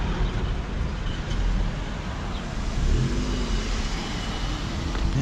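Car traffic on a two-way street in Napier, New Zealand: a steady, loud wash of passing engines and tyre noise close by, with a car swelling past midway.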